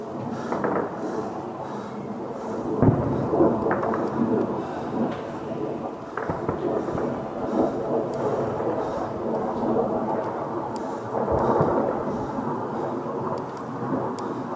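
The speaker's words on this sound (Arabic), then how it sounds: "قصف عنيف من طيران الميغ على مساكن الحزب" Heavy bombardment by MiG warplanes on a residential area of Deir ez-Zor in 2013, heard as a continuous roar of jet noise and rumbling blasts, with sharper thuds near 3, 6 and 11 seconds amid distant crowd and street noise.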